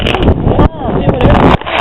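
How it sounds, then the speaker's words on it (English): Gusty outdoor wind buffets the microphone with a loud, rough rumble that briefly drops out twice, while people prepare fireworks; voices are partly mixed into the noise. "Too windy. No, it's windy."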